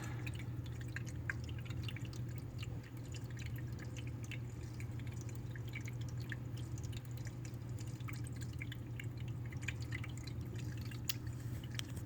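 A Sunnydaze indoor tabletop fountain with illuminated stacked rocks drips and trickles softly over a steady low pump hum. The sound is quiet, close and continuous, with scattered small drips and no voices.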